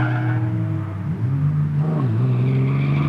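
A BMW race car at a time attack event screams by with a strong engine note that rises and shifts pitch, loud and close, alone without talk.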